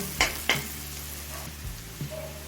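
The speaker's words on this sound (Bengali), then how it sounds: "পেঁয়াজটা হালকা লাল করে ভেজে নিয়েছি" Onions fry in a pan with a soft, steady sizzle while a spoon scrapes and clicks against the pan in a few distinct strokes, close up and without talk.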